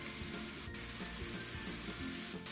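One pound of ground beef seasoned with garlic salt and pepper sizzles steadily in a pan, with faint stirring and scraping under the constant frying hiss.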